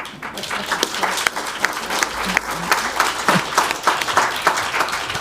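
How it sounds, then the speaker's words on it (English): An audience at a conference panel session applauds a speaker, a steady wash of many clapping hands lasting several seconds, fairly loud and even with no talk over it. "I had a feeling you were going to get a clap for that"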